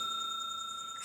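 A bright bell tone rings out and sustains evenly, clean and sharp like a notification chime, alone without speech.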